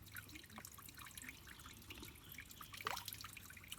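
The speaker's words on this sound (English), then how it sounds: "gently squeeze the water through, and oh, that's clean" Water from a Sawyer Squeeze filter trickling and dripping into a container outdoors, faint and close, with soft irregular drips over a quiet backdrop.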